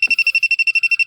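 A rapid, steady electronic beeping from a refrigerant leak detector checking a Toyota Innova's front evaporator repeats about ten times per second, high-pitched and close, with a brief click at the start.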